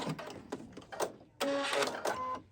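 A sewing machine stitches fabric at a shortened stitch length in short mechanical bursts: a few quick runs of the needle, then a longer, louder sustained stretch of whirring stitches close by.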